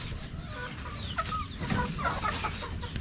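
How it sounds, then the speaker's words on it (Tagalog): Chickens, including a rooster, cluck and chatter nearby in short, repeated calls over a steady background of farmyard noise. "Tandang to. Tandang."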